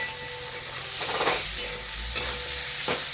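Brinjal and potato being sautéed in a pan, stirred with a spatula that scrapes and clicks against the metal now and then over a steady close sizzle.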